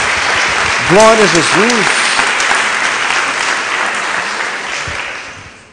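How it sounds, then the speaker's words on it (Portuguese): A church congregation bursts into a long round of applause during a sermon, steady dense clapping that slowly fades toward the end, with a voice calling out briefly near the start. "Dê uma salva de palmas a Jesus"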